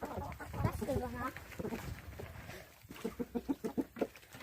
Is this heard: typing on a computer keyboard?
no